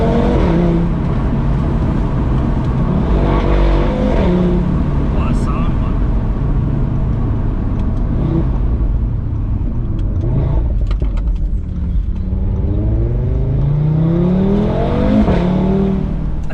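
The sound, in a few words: Audi RS car engine racket while driving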